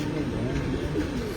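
Breeder pigeons cooing softly in a loft, low throaty coos close by with a steady murmuring background.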